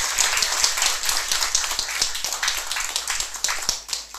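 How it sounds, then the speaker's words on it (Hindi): Audience applause in a hall at a Women's Day motivational address to students, a dense burst of many hands clapping, close and loud, with no speech over it. "तो सर के लिए सबसे पहले जोरदार ताली बजाओ।"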